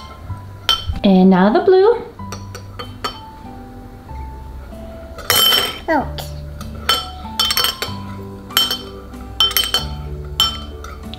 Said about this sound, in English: Go ahead and stir together the green. Mix it up.